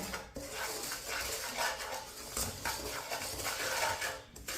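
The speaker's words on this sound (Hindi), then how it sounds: "1 मिनट के लिए चम्मच चला लिया मैंने।" A spoon scrapes and stirs semolina halwa in a hot wok (kadhai), giving soft, continuous clinks and scraping strokes in a quiet kitchen.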